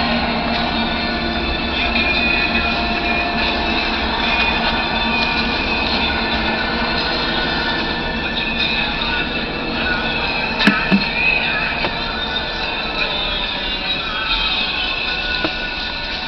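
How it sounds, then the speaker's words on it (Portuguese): A long freight train rolls steadily past, made up of several wagons, with a loud continuous rumble and clatter of wheels on rails and a brief metallic squeal near the end, and no talk over it. "Olha o trem. Esse é grande, hein?"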